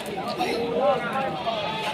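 Goats bleat at a busy livestock market in Rustampur, Rajshahi, with wavering cries rising above a background of crowd chatter and voices.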